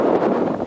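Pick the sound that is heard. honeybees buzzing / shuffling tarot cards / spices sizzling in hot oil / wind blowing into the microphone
wind blowing into the microphone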